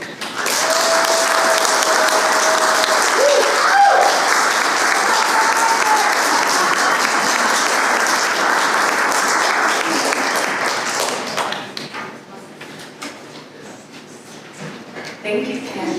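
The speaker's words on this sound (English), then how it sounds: "Yeah, just applaud." Audience applause at a LAZF 2019 event after Candace Hansen's talk: dense sustained clapping from a full crowd that holds steady for about eleven seconds, then thins to scattered claps and fades.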